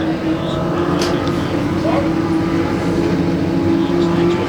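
Legend race car pulling away at low speed to take up its grid position, a steady engine drone running throughout under continuous race commentary.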